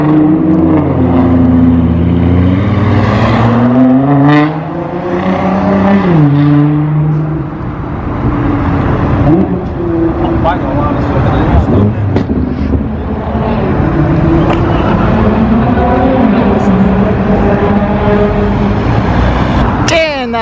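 Audi RS6 fitted with a Milltek exhaust revs hard inside a tunnel, a loud, continuous engine roar that climbs and falls in pitch over several bursts, with voices talking over it.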